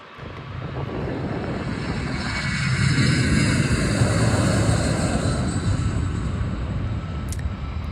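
Loud, steady roar of a regional airliner's engines, swelling slightly as it passes, with no voices over it.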